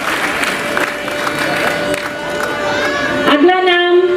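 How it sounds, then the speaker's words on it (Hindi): Applause and crowd noise at an award ceremony for people with disabilities, welcoming a gold medallist, mixed with a voice and a sustained musical tone that rises near the end. "जोरदार तालियों से कार्तिकेय जी का स्वागत और बहुत बहुत बधाई।"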